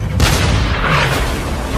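A loud, deep boom of cannon fire from the warship JDS Myoko bursts out, followed by a rumbling, roaring tail that fills the short clip.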